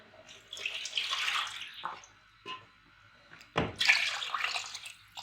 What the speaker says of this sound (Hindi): हम यखनी तैयार करेंगे, इसलिए पानी ज़्यादा डालेंगे।